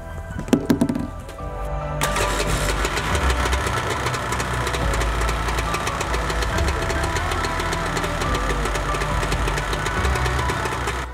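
A jet ski engine idles loudly with a rough, knocking beat while fogging oil is sprayed into its intake, after a short hiss at the start.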